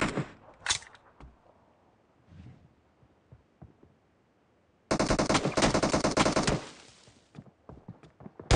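Gunfire in the shooter game PUBG during shotgun play: scattered single shots early, then a loud dense burst of rapid fire lasting nearly two seconds, followed by a few trailing sharp reports.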